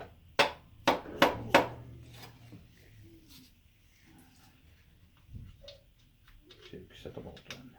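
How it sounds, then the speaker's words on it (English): A few light hammer taps seat a tractor muffler into place, with four sharp, close knocks in quick succession, followed by quieter clinks and handling noise while someone talks. "Give it ever so lightly a tap."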